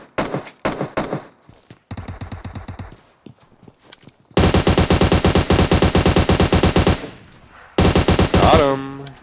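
Bursts of rapid automatic gunfire and single shots in PUBG Mobile on the Vikendi snow map, loud and close, with short pauses between volleys and a long sustained burst in the middle.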